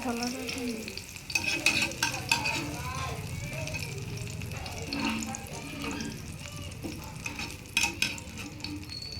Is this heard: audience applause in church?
no